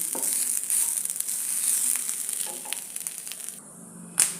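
Grated coconut sautés in a pan until golden brown for a roasted-coconut squid curry, a loud close sizzle with scraping stirs that fades toward the end before a sharp utensil knock.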